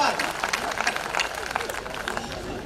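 An audience applauding at a Hindi comic poetry gathering (hasya kavi sammelan), a dense, continuous patter of many hands clapping close by, steady and loud for the whole stretch.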